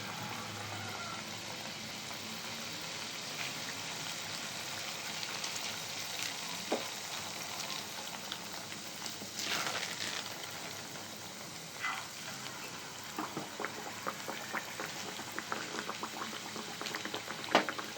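Rice flour arisalu sweets deep-frying in hot oil give a steady, dense bubbling and crackle that runs evenly throughout, close and fairly quiet, with a few faint utensil clicks and no talking.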